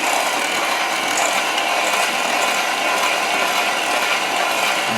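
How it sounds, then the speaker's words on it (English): Electric hand mixer whirring steadily through chocolate chip banana bread batter of eggs, butter, vanilla and sugar, a loud continuous buzzing drone with a faint rattling texture, running alone without any talk. "Now I want to mix this. Using my hand mixer"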